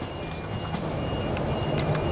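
A Sydney suburban train pulls away from the platform at Cowan station, a steady close rumble of rolling wheels and motors with faint rattles and clicks throughout.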